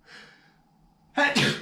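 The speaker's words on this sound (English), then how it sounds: "I'm gonna sneeze right now." A quick sharp intake of breath followed by a loud, close burst of a single sneeze.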